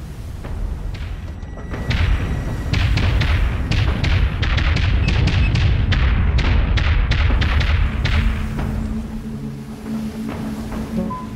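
Repeated heavy thuds and blasts of enemy missiles striking a ship in the space combat game Dreadnought, a dense, loud barrage of impacts over a low rumbling hull drone, easing off toward the end.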